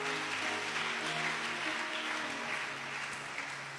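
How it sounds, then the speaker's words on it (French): A church congregation applauds to acclaim the Lord, a steady dense wash of clapping over sustained organ or keyboard chords, continuous and fairly loud throughout. "On acclame le Seigneur si on est d'accord."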